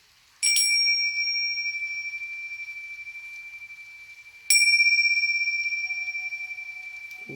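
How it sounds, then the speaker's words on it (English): A small bell is struck twice indoors for space clearing, each a bright close ring that fades slowly over several seconds, with a faint knock at the very end. "You go through your house with a bell."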